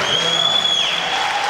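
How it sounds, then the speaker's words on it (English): Crowd at the 2012 European Weightlifting Championships, 105 kg clean and jerk, roaring and applauding a senior world record attempt, a dense steady wall of cheering and clapping, loud and close, with a commentator's voice faintly underneath. "So the crowd getting behind him now."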